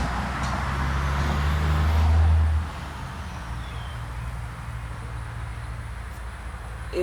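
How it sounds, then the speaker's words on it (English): A truck passes near an outdoor interview spot, a heavy low rumble that swells for about two and a half seconds and then drops away, leaving a steady quieter wash of outdoor background noise. "You can wait till that truck leaves."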